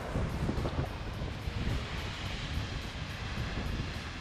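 Ocean surf surges at the Quobba blowholes on the Western Australian coast, a loud rumbling wash of crashing water blended with heavy wind buffeting the microphone, continuous with no talking.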